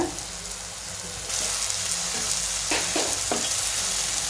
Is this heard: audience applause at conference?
no